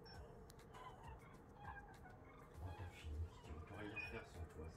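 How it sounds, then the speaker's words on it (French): Migrating geese or cranes call in the distance outdoors, a faint, scattered chorus of honks under steady background noise. "Je pense que c'est des bernaches ou des grues."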